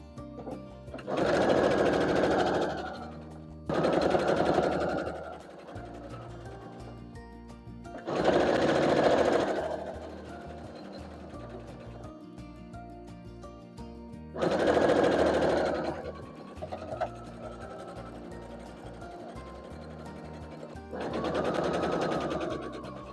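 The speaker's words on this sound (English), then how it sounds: "now we are taking these eye strips and sewing them onto both sides of our blocks" Sewing machine stitching fabric strips onto both sides of quilt blocks, running in five separate bursts of fast mechanical whirring with quiet gaps between them.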